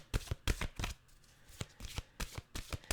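Mantra cards being shuffled by hand, a quick series of crisp riffling bursts in an uneven rhythm, close and fairly quiet, with no talking.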